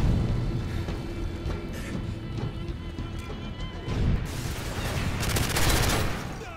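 A P90 submachine gun fires in Call of Duty: Modern Warfare 3, heard as loud, rapid bursts of gunfire over several seconds with crashing impacts, ending in a dense, sustained burst.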